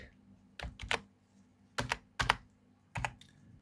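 Typing on a computer keyboard while writing code: short clustered bursts of crisp key clicks with brief pauses between them, close and fairly quiet.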